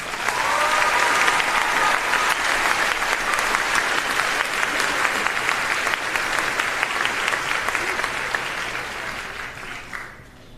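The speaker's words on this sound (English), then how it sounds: "One more round of applause." Sustained applause from a large crowd at a graduation ceremony, steady and dense for about ten seconds before tapering off at the end.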